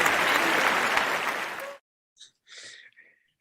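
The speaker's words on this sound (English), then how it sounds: "Forgot that we had to give the audience a little help with that applause track." An added applause sound effect plays at a PechaKucha Day presentation, a burst of crowd clapping that cuts off abruptly after under two seconds, followed by a couple of brief breathy vocal sounds.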